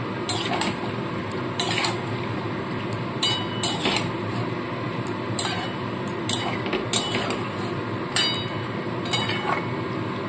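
Potatoes are stirred with spices in a metal pan, the spoon scraping and clanking against the sides in repeated strokes, loud and close, with no talking.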